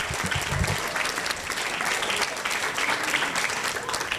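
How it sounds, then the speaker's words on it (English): An audience at a senior awards ceremony applauds for the students' parents, a broad, even wash of clapping held at steady volume, with faint crowd murmur underneath. "Give your parents some applause for that,"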